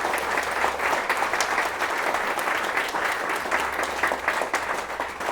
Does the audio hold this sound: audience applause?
yes